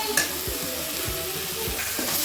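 Ginger garlic paste sizzles in a hot pan of masala for egg masala, a steady close frying hiss broken by a few stirring scrapes.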